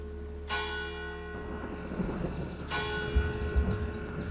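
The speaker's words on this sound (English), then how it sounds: "And then the bell rang." A church bell tolls close and loud, two heavy strikes a couple of seconds apart, each leaving a long, shimmering ring that fades slowly with no voices present.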